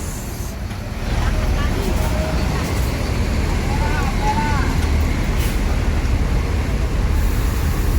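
An Adi Putro Jetbus 3 coach from the Piala Emas line pulls into a busy Palembang bus terminal. A steady, loud engine rumble and road noise swell after the first second and continue throughout.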